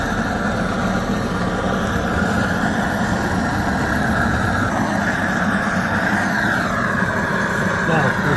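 Gas blow torch flame burning steadily and loudly throughout, a continuous roaring hiss used for searing a sous vide steak, with no pauses.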